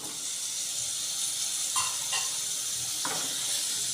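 Chopped tomatoes sizzling and hissing in a hot pan as they are sautéed for chana masala, a steady broadband fizz with a few soft stirring scrapes, alone without talk.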